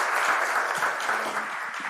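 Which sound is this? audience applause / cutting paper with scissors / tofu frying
audience applause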